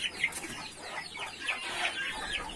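Young chicks in an enclosure where they are shut in to sleep, a steady stream of high-pitched peeping and cheeping, several birds calling close by with no talk.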